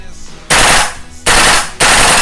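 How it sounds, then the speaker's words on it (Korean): A WE AK74UN gas blowback airsoft rifle fires loud, close automatic bursts, three rapid strings of sharp cracking shots with brief gaps between them. "좀 전에 여러 발 쏠 때 퍽퍽퍽 하면서 약간 부조화가 일어났거든요"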